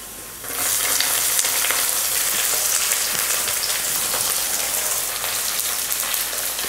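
Finely chopped onion fries with dal, garlic and chili for mango rice, a loud close hiss of sizzling oil that bursts in as the onion goes in and keeps crackling steadily.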